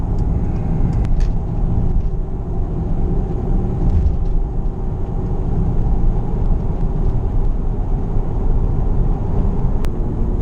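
Car driving on a road right after its new tires were balanced, a steady loud low rumble of engine and road noise from inside the cabin, continuous with no talk.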